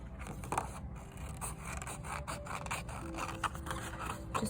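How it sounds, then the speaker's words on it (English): Scissors snipping through paper for a classroom Diwali rangoli craft, a steady run of close, soft crisp cuts and scrapes repeating throughout with no talk. "I'm gonna cut right on the line with my scissors as I turn my paper"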